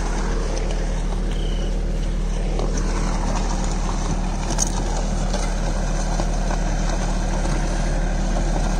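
A Captain 8G 283 4WD mini tractor ploughs a field with an MB mouldboard plough, its diesel engine droning loud and steady at close range. The low rumble holds throughout with no talking.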